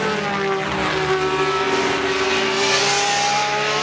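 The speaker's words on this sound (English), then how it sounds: "That flat 12-cylinder engine" A Ferrari flat 12-cylinder race car at the Goodwood Revival holds a steady, loud, dense engine roar that rises slightly in pitch toward the end, heard without talking.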